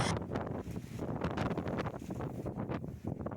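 Storm wind gusting across a rooftop terrace garden, a steady broadband rush with buffeting against the microphone and rustling foliage, loud and continuous throughout.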